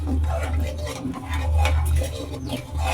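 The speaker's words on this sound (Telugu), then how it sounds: "వేసుకొని మొత్తం బాగా కలుపుకోవాలి" A spoon scrapes and stirs through a pot of vegetable pulao after water is added, giving repeated close rubbing and scraping strokes against the pot with a low background hum.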